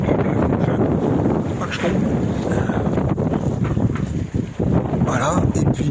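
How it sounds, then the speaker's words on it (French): Wind buffets a sailboat at sea off the Spanish coast near Alicante as the breeze picks up with the sail reefed. It is a steady, loud, broadband roar across the mic throughout, with a person talking over it. "le vent est un peu monté"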